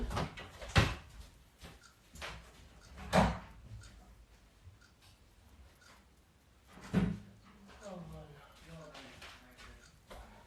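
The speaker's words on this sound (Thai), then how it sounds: "ปิดประตูก่อน" A door shut indoors at home, giving several soft thuds and knocks spread across the stretch, heard under ongoing conversation.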